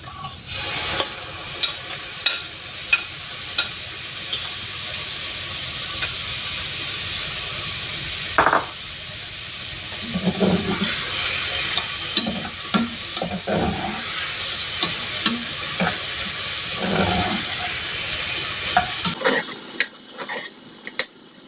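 Chicken and rice for arroz caldo cook in a pot with a continuous frying hiss, broken by repeated clinks and scrapes of a utensil stirring against the pot, then a sudden quieter change near the end.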